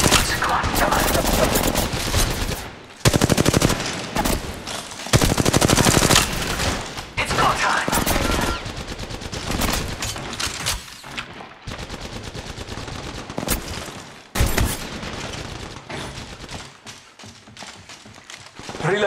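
Automatic gunfire bursts crackle through a battle in the mobile shooter Apex Legends Mobile, loud and dense with brief pauses between volleys and reloads, with game effects mixed in.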